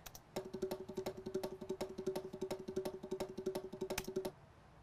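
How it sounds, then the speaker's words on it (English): A dry bongo-like percussive tone struck in a fast, steady rhythm of repeated hits, fairly quiet, played alone for about four seconds. "It should just sound like a bongo."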